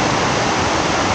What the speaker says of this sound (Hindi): तो देखिए वाटरफॉल, तो अभी जा रहे हैं उस पर, ये पानी क्रॉस करके जाना पड़ेगा।